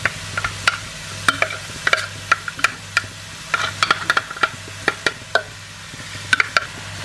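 Conchiglioni pasta stirred into a spinach and garlic sauce in a pan: a spoon scrapes and knocks in close, irregular strokes over a soft sizzle, with no talking.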